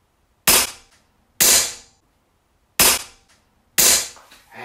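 An Artemis P15 air pistol fired unloaded lets out four sharp, loud, close cracks, each decaying quickly, spaced about a second apart with silence between.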